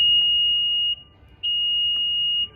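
Two long, steady electronic beeps from an Infiniti QX60 liftgate sound one after the other, with a short pause between them, clear and close in a quiet setting.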